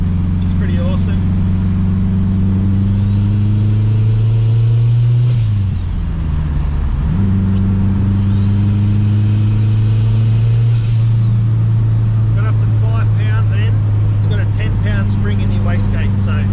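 A turbocharged K-swap Honda Civic engine drones loudly and close from inside the car, rising briefly with faint high turbo whistles. Voices talk over the steady engine roar.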